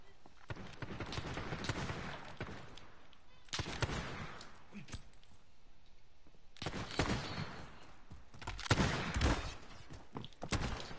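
Shotgun blasts in a video game firefight, several loud booming bursts in clusters with gaps between them, close up, with voices talking in between.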